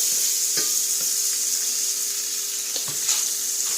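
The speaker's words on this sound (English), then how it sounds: "pop off a little more butter, throw it in the pan, move it around a little bit" A grilled cheese sandwich fries in butter in a pan, giving a steady, close hiss of sizzling with a few small pops and clicks throughout.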